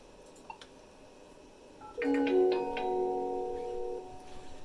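An Avaya J179 desk phone plays a ringtone preview: a short chime-like melodic burst of a few tones ringing out clearly after a quiet start with faint ticks.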